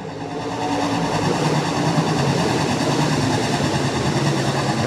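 Stock cars race under green flag at Rapid Speedway, a dense, continuous roar of many engines blending into a loud wall of sound that swells slightly at the start and holds steady.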